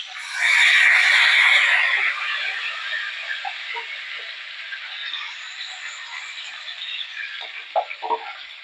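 A splash of water with ginger juice hits a hot pan, setting off a loud hissing burst that gradually calms into a quieter, crackling simmer with small pops.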